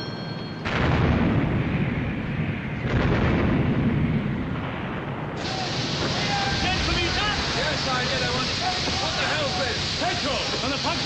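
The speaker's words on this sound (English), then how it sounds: "My God, she's firing again. With another two turrets." Heavy naval gunfire from warship turrets in a 1956 battle film, with deep booming blasts and rumbling aftermath under urgent shouted dialogue and background commotion.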